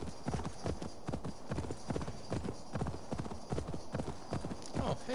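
Horse hooves clip-clop in a steady, rapid rhythm in the video game Assassin's Creed Valhalla, close and continuous over a faint background.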